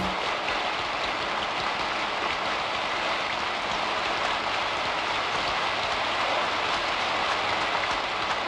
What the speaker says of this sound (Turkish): Yağmurun yağdığı iyi oldu.